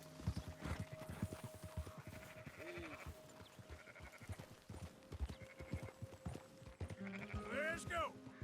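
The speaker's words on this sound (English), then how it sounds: "Like I heard sheep" Sheep bleat repeatedly in Red Dead Redemption 2, several wavering calls near and far over the clip-clop of horse hooves, with a person talking under the game sound.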